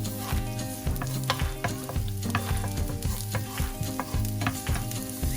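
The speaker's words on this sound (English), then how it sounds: "and add some olive oil. You can also use other vegetable oil, but for me I want a bit healthier, so I'm using olive oil. Saute your garlic," Garlic and onions sautéing in olive oil, a steady close frying sizzle with repeated stirring scrapes running throughout, a low hum and faint background music beneath, no talk.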